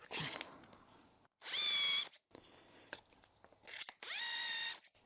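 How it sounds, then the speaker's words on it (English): Electric drill spinning a barrel trimmer against a pen blank with a brass tube, two loud whining bursts of about half a second and a second each, separated by quieter handling noises and a short opening whir. "So we'll just put the barrel trimmer in the drill."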